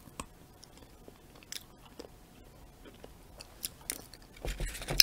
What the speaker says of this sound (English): It's nice and crunchy. There's bits of the candy cane in there.